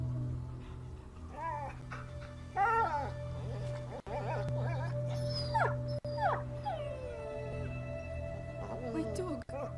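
Dog whimpering and yelping in the medieval video game A Plague Tale: Innocence, a run of high, wavering whines over a steady low hum, with a few voices speaking in between.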